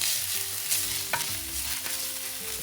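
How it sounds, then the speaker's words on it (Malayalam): Crushed garlic and ginger fry in hot oil for a Kerala-style pepper chicken, giving a loud, steady close-up sizzle broken by a few sharp scraping stirs of the pan, with no voices. "എണ്ണ ചൂടായി ഇതിലേക്ക് ഞാൻ ഒരു 4 വലിയ വെളുത്തുള്ളി ചതച്ചെടുത്തതാണ് ഇടുന്നത്."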